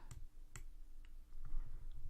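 Several sharp computer mouse clicks while navigating a menu, a pair of crisp clicks early then fainter ticks, close and quiet over low room hum.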